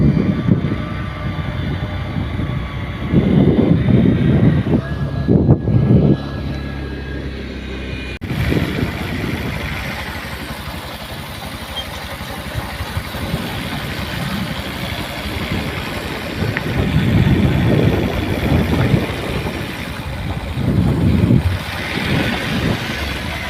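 A car drives slowly along a mountain road near Lambgaon in Tehri Garhwal. Its engine hums low and steady, wind rumbles against the microphone, and a few louder low surges come and go, with no voices.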